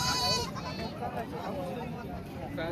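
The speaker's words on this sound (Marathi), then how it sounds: "यांच्यापाशी 6 शेळ्या आहेत." Goats at a goat market bleat close by, one clear call at the start and others less distinct, over a steady babble of crowd chatter and voices.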